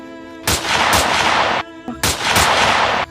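Loud, close gunfire during an attack scene in a short film about the 1 March 1949 general offensive, two long roaring bursts with sharp reports, a short gap between them, and no talk.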